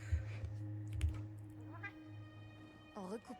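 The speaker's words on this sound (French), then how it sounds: "Les petits bruits que vous entendez, c'est le chat." A cat makes a few small, soft meows and chirps, close by and quiet, mixed with low thumps and keyboard-like tapping during Monster Hunter Wilds play.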